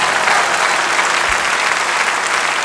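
Loud, dense audience applause at a live concert after an impromptu musical solo, a continuous roar of clapping filling the whole moment with a faint low thump partway through.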